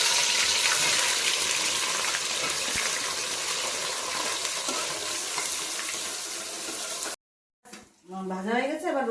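Onion hits hot oil with whole spices in a cooking pot for chicken pulao, giving a loud, continuous broadband sizzle. It cuts out abruptly, then a voice briefly speaks.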